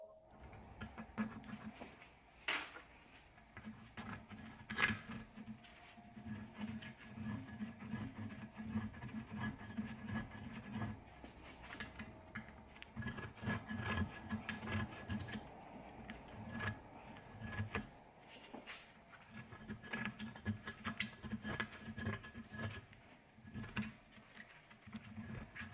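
A small hook scraping dirt out of a rear car brake caliper, giving a faint, continuous close-up scratching and patter of small metal-on-metal strokes.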